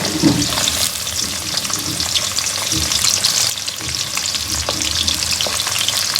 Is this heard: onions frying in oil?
yes